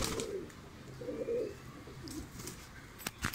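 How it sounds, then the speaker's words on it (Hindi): Domestic pigeons perched on top of a pigeon loft coo in several soft, low, rolling phrases, close by, with faint rustling and a few sharp clicks near the end. "अब हमारे कबूतर इस दरवे के ऊपर बैठ जाते हैं"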